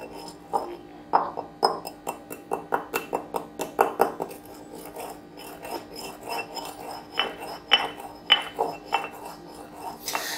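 Shilajit being pounded and ground into powder, most likely in a mortar and pestle, with a series of sharp rhythmic knocks and scraping rasps, steady at first then sparser, close and distinct.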